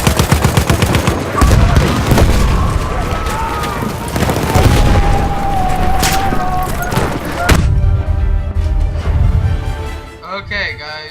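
A grenade thrown in Battlefield 1 lands amid loud, continuous gunfire and machine-gun bursts, with heavy thumps and booms. Battle noise and shouting voices dominate, then the shooting cuts off abruptly near the end.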